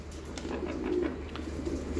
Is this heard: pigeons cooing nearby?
yes